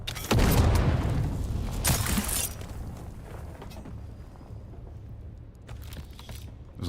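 A grenade blast in the video game Dune: Awakening: a sudden loud boom with a broad burst, a second crack about two seconds later, then a rumbling tail fading under game ambience.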